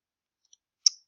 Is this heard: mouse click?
yes